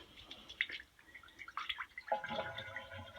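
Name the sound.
pouring antifreeze into toilet tank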